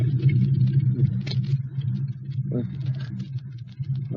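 A car engine idles with a low, steady rumble, close by, with a few faint clicks and knocks over it, in a radio drama.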